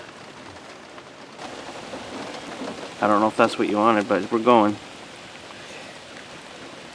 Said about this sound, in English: we've just been filming 10 minutes of this rain